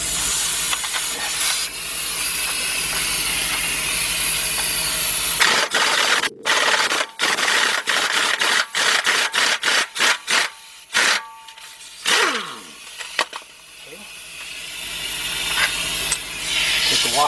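Compressed air hisses from an air tool while the rear shocks come off a 1999 Isuzu Rodeo LS 4WD: a steady broadband rush for the first five seconds, then a string of short bursts and sharp cutoffs, loud and close, with no talk.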